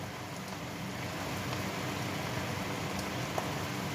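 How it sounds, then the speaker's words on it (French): Morel mushroom cream sauce for chicken bubbling and sizzling steadily in a pan, a dense continuous crackle of small pops, close and fairly quiet, with no voices. "ce sont les bulles qui pètent"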